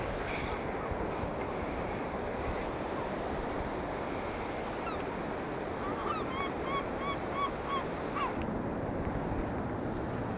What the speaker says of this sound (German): hier hinter mir auf der Buhne sitzen auch schon ganz viele Möwen